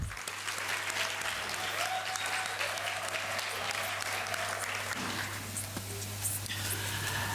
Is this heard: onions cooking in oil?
no